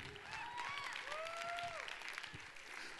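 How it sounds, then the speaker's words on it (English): An audience at an Ignite Detroit talk applauds after a joke about bacon, giving a soft, steady patter of clapping heard at a distance, with faint whistle-like tones sliding over it. "Gratuitous bacon applause,"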